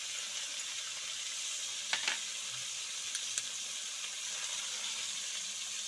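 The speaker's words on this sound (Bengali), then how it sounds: "এই আলুগুলো ভাজা হয়ে গেছে লাল লাল হয়ে গেছে এবার লাউটা ঢেলে দেবো" Bottle gourd tipped into a pan of browned frying potatoes sets off a steady, close sizzle with a soft hiss, plus a few brief clicks and stirring knocks midway, and no voices.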